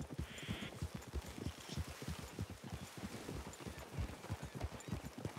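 Several horses' hooves in Red Dead Redemption 2 clip-clop in a steady, dense rhythm as riders move through a forest clearing, soft and fairly distant over light wind.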